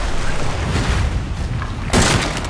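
Shotgun blasts in the horror video game Resident Evil 7: a loud, dense rumble of heavy game noise with one sharp, bright blast near the end, no voice.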